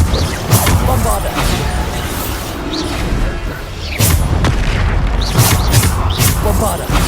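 Bombarda spell blasts in Hogwarts Legacy, repeated booming explosions and crashing impacts amid combat clatter, loud and close, with a voice occasionally speaking over the fighting.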